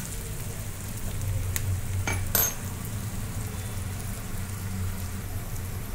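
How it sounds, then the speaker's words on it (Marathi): Two large chopped onions fry in hot oil for brinjal bharta, giving a soft, steady sizzle throughout, with a couple of brief utensil clinks partway through. "दोन मोठे कांदे कापून गरम तेलामध्ये चांगले भाजून घेतले"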